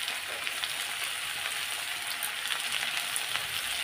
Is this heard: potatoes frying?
yes